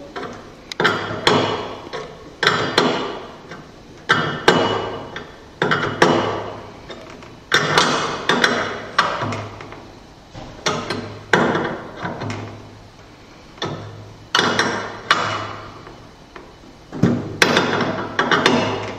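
Wrench work on the top compression nut of a hydraulic pipe gives a series of repeated metallic clicks and clanks in short bursts, with brief pauses between groups, close and fairly loud, no talking.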